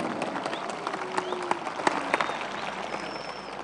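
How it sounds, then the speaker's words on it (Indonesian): A crowd at an Islamic religious sermon gathering claps along, a scattered, moderately loud patter of hands with some sharper individual claps over a steady background murmur. "Tepuk tangannya kurang kenceng, asli kurang kenceng"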